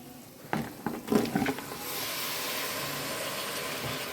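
Goat head meat added to hot oil and frying masala for a thalakari curry, a few clattering knocks and then a loud, steady sizzle that continues to the end.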